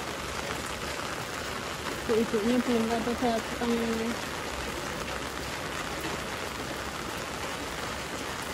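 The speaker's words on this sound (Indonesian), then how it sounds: "Masih hujan loh tuh" Steady rain falls outdoors with a constant hiss, while someone speaks briefly over it partway through.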